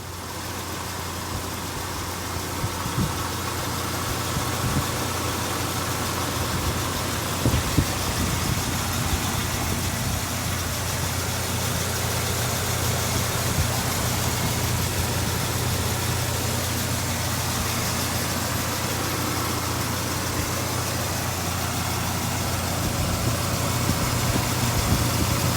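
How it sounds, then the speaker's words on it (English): A 1989 Dodge Dakota Sport convertible pickup idles steadily under an open hood, a constant low engine hum with a faint mechanical rattle running evenly throughout, close by and with no voices. "let's pop the hood, listen to the engine go"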